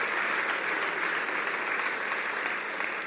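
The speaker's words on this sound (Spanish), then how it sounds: "Dele bien el aplauso a Dios" A church congregation applauds steadily and continuously, a dense wash of clapping filling the room at moderate volume throughout, with no voices standing out.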